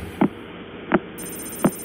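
A pulsar's radio signal converted to audio, rotating 1.4 times per second, gives three evenly spaced dull thumps over a low steady hum, like a slow mechanical heartbeat.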